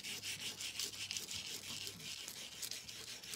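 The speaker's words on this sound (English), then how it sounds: "it's just a matter of scrubbing it with our little foil scrubbing brush" Foil on a hummingbird door hanger craft piece is scrubbed with a small foil scrubbing brush, giving a faint, quick back-and-forth rubbing and scratching texture in close, repeated strokes without speech.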